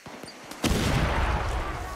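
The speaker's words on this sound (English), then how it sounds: "My fireworks just went off." Fireworks go off in the open-world shooter Far Cry 6 with a sudden loud burst of crackling pops that keeps sputtering afterward, following a few faint clicks before the blast.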